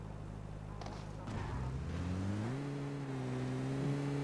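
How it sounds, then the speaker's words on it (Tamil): A car engine in a video game hums steadily, then its pitch rises as it revs and accelerates, with the whining tone climbing and holding fairly close. "அங்க ஒரு கார் போகுது"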